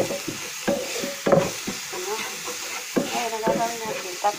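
Pork sisig sautéing in olive oil in a pan, a close, steady sizzle with scraping and clinking of a spatula stirring the meat, while someone talks over it.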